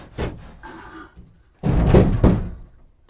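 Half-inch plywood sheet pushed into a snug opening while clearing storm damage: a few hard wooden knocks and thuds, then a louder grinding, scraping push with two heavy bumps, close by and with no talk.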